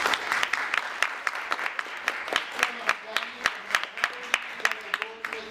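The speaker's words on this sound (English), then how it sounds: "So let's give them a round of applause right off the bat." A small classroom audience at a college peace panel claps in a round of applause, sparse distinct hand claps in an irregular patter, moderately close, with voices murmuring underneath.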